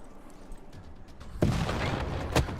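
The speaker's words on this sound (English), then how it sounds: "And the cannon is attacking my helicopter." Heavy booming blasts of cannon fire in Civilization 6, a sharp loud burst followed by sustained rumbling and another strong hit near the end.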